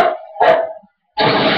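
A dog barks loudly and close by, two sharp barks in quick succession followed by a brief silence and then a longer, rougher bark or growl at the end.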